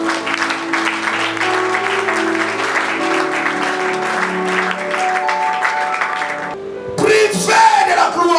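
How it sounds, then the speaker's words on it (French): Congregation at a Sunday thanksgiving church service bursting into applause and cheering, following a sustained sung or organ-like tone, with loud clapping and shouts near the end. "Si vous êtes là, acclamez le nom de Dieu."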